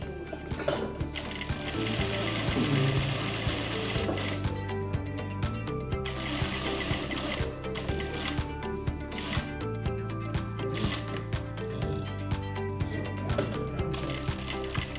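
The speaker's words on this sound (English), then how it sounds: "we're just going to sew around the edges, leaving a small gap, a turning gap" A sewing machine stitches around the edges of a zip-around long wallet, running steadily with a rapid mechanical chatter, fairly close and continuous, with small clicks and handling noises throughout and no talking.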